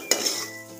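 Spoon clinking and scraping in a cooking pot while urad dal is stirred and roasted with salt and spices for a Pahadi dal dish; a sharp metallic clink starts a short burst of close stirring over a faint sizzle.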